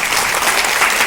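An audience at a direct-selling company meeting bursts into loud, dense applause, a steady close wash of clapping lasting about a second.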